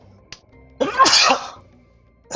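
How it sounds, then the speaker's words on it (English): A single close sneeze burst in the middle, preceded by a short sharp click and followed by a brief noise at the end. "Sorry, I had to sneeze"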